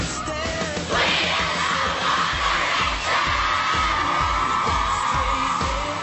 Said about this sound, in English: The girls have been screaming and falling